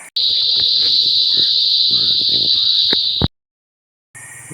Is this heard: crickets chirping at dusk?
yes